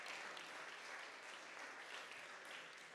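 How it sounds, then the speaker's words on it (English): At an innovation and entrepreneurship awards night, an audience keeps up a brief burst of continuous applause. The clapping sounds soft and somewhat distant. "So if we could just give a round of applause for the INE, the Innovation Entrepreneurship Ecosystem."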